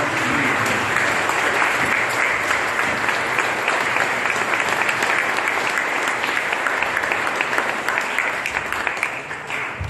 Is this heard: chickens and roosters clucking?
no